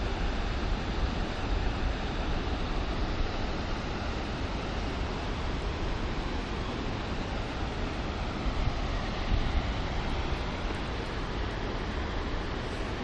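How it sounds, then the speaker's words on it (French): A waterfall in New Zealand on the way toward Fox Glacier, a loud, steady broadband roar of falling water that holds constant throughout with no voices. "Donc voilà la cascade."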